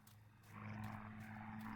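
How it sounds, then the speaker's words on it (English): A propeller airplane drones overhead in the horror game Martha Is Dead, a steady low hum with a constant tone that swells louder after the first half second and holds, with no talk over it. "so I heard the plane."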